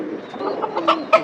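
Pigeons cooing close by, soft throaty calls rising into a couple of louder coos near the end, brief and with no talking.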